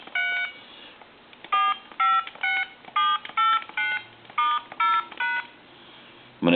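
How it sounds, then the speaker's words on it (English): Touch-tone keys on a Lucent two-line 272 telephone are dialed, about ten short, clear DTMF beeps in an uneven sequence, close and distinct, ending with a brief clunk. "I'm going to go ahead and dial my numbers."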